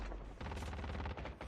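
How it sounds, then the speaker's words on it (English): Rapid gunfire rattles through a competitive video game match, a dense string of shots packed close together and held at a steady, loud level for the full short stretch, with no talk over it. "I don't know why I can barely hear gunshots."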